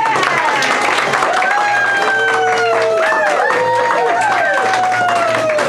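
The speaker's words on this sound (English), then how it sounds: "let's give them a big round of applause as they cut that ribbon" A crowd applauds and cheers at a store's ribbon-cutting celebration, a steady wash of clapping and voices running through the whole stretch with shouts and calls rising over it.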